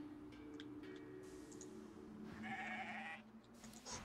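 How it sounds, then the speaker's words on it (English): A sheep bleats in the video game Divinity Original Sin 2, fairly faint over a steady ambient game background with music, one drawn-out bleat standing out near the end. "There's a sheep."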